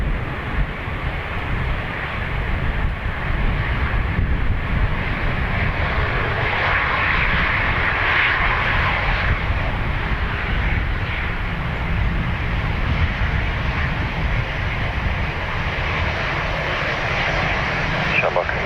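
Airplane engines roar at Dublin Airport in a steady, loud, unbroken drone, with faint voices heard beneath it.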